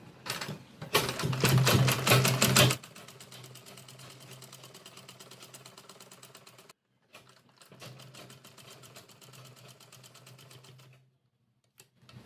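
A sewing machine stitches fabric for a vegetable organiser bag in a steady, rapid mechanical run, loudest for the first few seconds, then continuing more softly with a brief stop and a final pause near the end.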